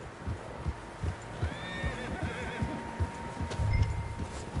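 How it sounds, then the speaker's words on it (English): Several horses whinny and neigh at moderate distance over soft hoofbeats and a low ambient rumble, in the video game Red Dead Redemption 2. "Horses, quite a few of them."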